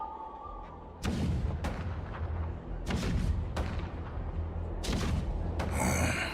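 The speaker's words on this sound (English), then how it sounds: "The rumble of the cannons." Deep booming blasts of cannon fire from the video game Honkai Star Rail rumble repeatedly, irregular heavy thuds rolling over a continuous low drone with no voices.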